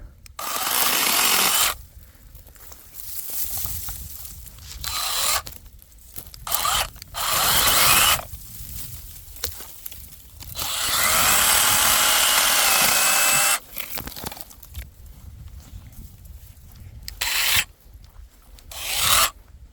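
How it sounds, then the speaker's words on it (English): A Parkside 20V cordless pruning saw cutting through small trees, its harsh rasping chain-cutting bursts alternating with quieter idle gaps, several cuts in close succession at close range. "small trees, what I wanted to cut, and with this chainsaw, theoretically we can cut them"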